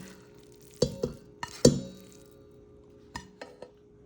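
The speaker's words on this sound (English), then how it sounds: "And we're going to mix this up." Tomato sauce, drained ground beef and Spanish rice are stirred together in a large bowl, giving a few scattered clinks and soft scraping sounds of a spoon against the bowl, with quiet gaps between them.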